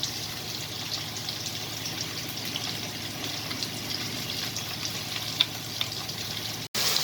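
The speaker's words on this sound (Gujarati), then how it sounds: "હવે ભીંડા ફ્રાય થઈ ગયા છે." Okra (bhindi) fries in hot oil, a steady dense sizzle and crackle that runs close and continuous throughout, with a brief abrupt dropout near the end and no voices.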